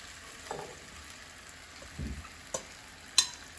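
Lightly cooked vegetables go into a pan of frying Korean glass noodles for japchae, giving a soft steady sizzle with a few dull thuds and a sharp clink near the end, moderately quiet.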